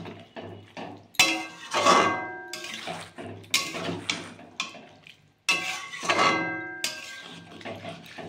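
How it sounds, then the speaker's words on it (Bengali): Small river fish being stirred in simmering curry in a pan, clattering and scraping in irregular strokes with soft bubbling and sizzling between them, close and moderately loud. "মাছটা দিয়ে এইবার ভালো করে নাড়াচাড়া দেবো।"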